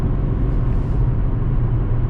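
A cammed 5.7-litre Dodge Challenger R/T V8 idles with a deep, continuous rumble at close range and no one talking.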